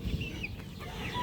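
Two tethered hens on a backyard farm cluck in short, low, close bursts over a brief stretch of rustling.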